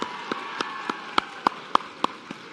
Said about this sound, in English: Another round of applause for this group here